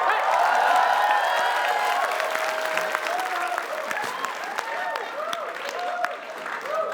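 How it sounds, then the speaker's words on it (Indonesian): A crowd applauds steadily, dense clapping that slowly thins out over several seconds, with a few whoops and voices mixed in. "Coba tepuk tangan"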